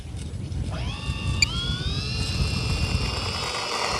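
A small remote-controlled Twin Otter model plane throttles up for takeoff. Its electric motors rise from a low hum into a steady, climbing whine that holds at a higher pitch over outdoor wind noise, with no talking.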